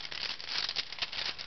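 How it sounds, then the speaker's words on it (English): Cellophane packaging around a paint brush crinkles and rustles continuously, close and fairly loud, with brief sharper crackles throughout and no talking. "Like the cellophane they have, it's rather noisy."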